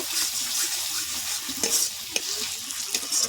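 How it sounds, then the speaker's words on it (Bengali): Ground melon seed and cashew paste sauté in oil for rui fish kalia, a close, steady sizzle broken by scraping stirring strokes and small clinks. "চালমগজ আর কাজু বাদাম বাটা, ভালো করে কষিয়ে নেব।"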